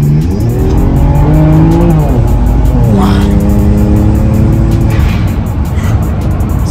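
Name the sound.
BMW 335i with 600 hp accelerating hard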